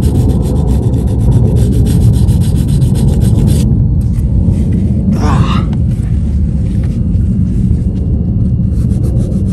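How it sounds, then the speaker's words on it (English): Touch-up paint on a scratched Tesla panel being sanded hard, a continuous dense rubbing rasp that runs steadily throughout with a brief higher scrape midway, loud and close with no talk. "Some parts it's kind of globby, so I guess I should just sand it all like hard"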